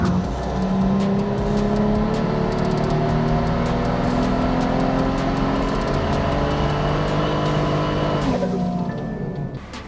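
A tuned BMW F30 335 in Ignite Red on an all-wheel dyno run revs hard and close, its engine tone climbing steadily through the gears before the throttle cuts and the revs fall away.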